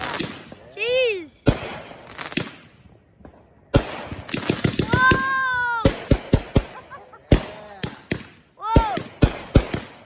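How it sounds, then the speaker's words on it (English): Fireworks go off close by in a rapid, non-stop run of sharp bangs and crackles, with whistling rockets rising between the blasts while excited voices shout over them. "Non-stop fireworks!"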